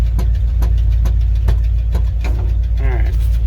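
A 1956 cab-over-engine grain truck engine idles close by with a steady low rumble and a faint rhythmic ticking, and a brief voice rises near the end.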